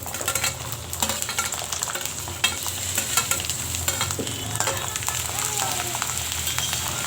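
Small garlic cloves dropped into hot oil already seasoned with mustard seeds and curry leaves for a Tamil garlic pickle, giving a steady loud sizzle with spoon stirring and scraping against the pan throughout.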